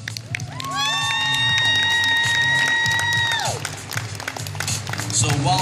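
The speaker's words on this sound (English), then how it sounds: "Another big round of applause for all of these amazing contestants." A convention crowd applauds and cheers cosplay contestants, with clapping and whooping throughout and a long sustained shout rising over the noise mid-clip.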